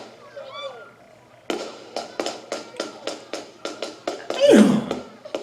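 Fireworks from a large outdoor display play back as a rapid series of sharp cracking bangs, about a dozen evenly spaced pops, with a person's voice briefly over the burst near the end.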